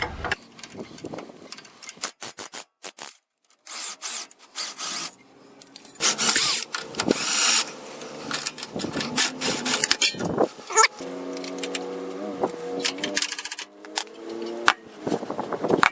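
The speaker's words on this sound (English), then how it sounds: "I'm going to put a wrench on the back side and then impact the head of it off." Impact wrench hammering off a 19mm lower strut mount bolt on a 2000 Toyota 4Runner during a lift kit install, with loud rattling bursts, bangs and whirring stops and starts, close up, without talk.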